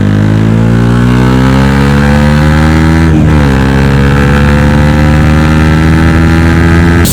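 A KTM Duke 200 motorcycle engine revs steadily while the bike is ridden, a loud, close, continuous harmonic drone that dips briefly and climbs again, with no voices.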